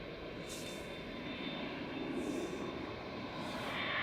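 A Qatar Airways Boeing 787-9 departing Manchester Airport for Doha, a faint, steady broadband engine roar heard from a distance, slowly swelling with no voices.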